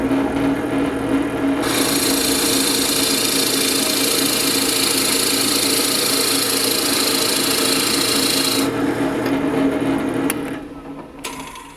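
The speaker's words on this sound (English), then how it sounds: "Let's go ahead and drill a hole in some ingrain." A Forstner bit in a drill bores into end-grain wood with a loud, steady grinding whir and shavings rasping, the cutting noise lasting several seconds before the drill winds down and stops.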